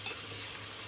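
Onion, garlic and carrots sliced long sauté in a pan, a soft continuous sizzle heard briefly and fairly faintly.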